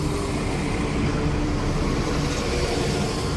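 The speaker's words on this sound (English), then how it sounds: "Here comes the 1130 West Midlands Railway service to Worcester Foregate Street from Dulwich." A West Midlands Railway diesel unit, class 172, arriving at Birmingham Moor Street station: a continuous loud rumbling roar of engine and wheels, steady throughout at close range with no talk.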